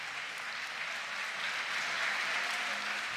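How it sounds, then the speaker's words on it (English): Crowd applause at a Kennesaw State vs. Clemson college volleyball match for an injured player now sitting up, a broad, steady clapping wash from the arena stands that holds at a moderate, distant level. "And a nice hand from the crowd"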